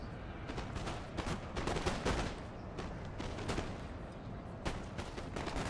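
Musket gunfire in the Napoleonic-era strategy game Napoleon Total War, with irregular volleys and scattered crackling shots rolling over several seconds from massed infantry lines, no voice over them.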